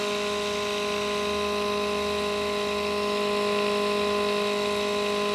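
A small spinning generator rotor from a variable-inductor experiment gives off a steady, close electrical whine with layered tonal hum that holds nearly constant throughout, loud and with no speech.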